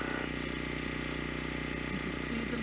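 Irrigation water and air rush through a pipeline in an orchard as a valve opens, giving a steady, dense hiss and gurgle that stays close and loud throughout.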